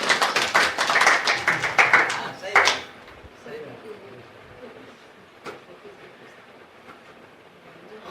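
An audience at a home satsang claps hands in a brisk rhythmic burst of sharp, close claps that stops abruptly after a few seconds, leaving quiet room tone with faint speech.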